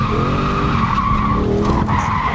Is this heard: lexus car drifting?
yes